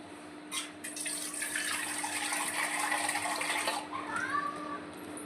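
Water pours steadily into a pot for boiling dried chillies, a continuous splashing gush lasting a few seconds before tapering off, with a faint steady hum underneath.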